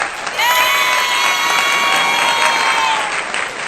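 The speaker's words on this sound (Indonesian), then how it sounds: "Kamal, tepuk tangan dulu dong" A class of ninth-grade students claps for a classmate, a loud burst of applause mixed with bright cheering and shouting that fades near the end.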